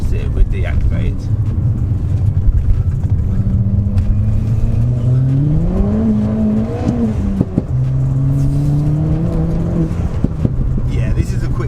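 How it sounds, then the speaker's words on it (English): Tuned Ford Fiesta ST with traction control switched off, its engine revving hard and rising in pitch through gears with turbo boost, loud and close, while someone talks over it. "so I can straight away tell you that this is a very quick car, very boosty"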